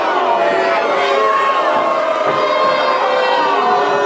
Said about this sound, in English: The crowd not happy.